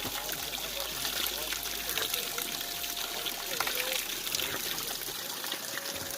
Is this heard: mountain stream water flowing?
yes